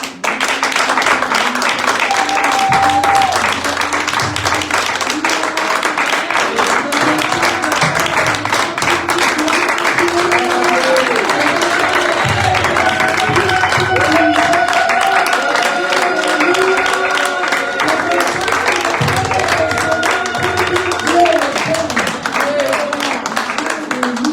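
A church congregation claps steadily to acclaim Jesus during a worship service, dense sustained applause filling the room while a voice and music carry on underneath.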